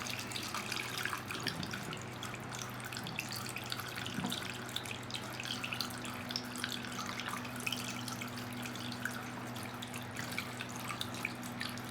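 Water poured from a jug into a well, a steady continuous trickling and splashing that runs unbroken at moderate level, with a faint fan hum beneath and no talk.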